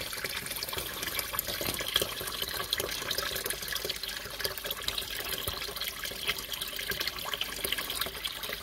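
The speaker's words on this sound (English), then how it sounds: "Water's going on now." Water from a faulty ball cock valve runs steadily into a toilet cistern, a continuous hissing, trickling flow at an even level with no pause.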